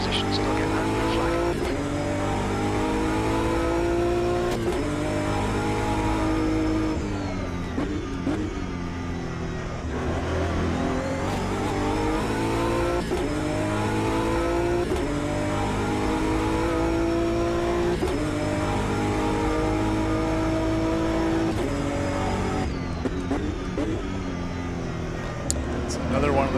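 A Nissan GT-R GT3 race car engine in Automobilista 2 roars through repeated rising gear pulls and shifts, loud and continuous with occasional tire squeal, while someone talks over it.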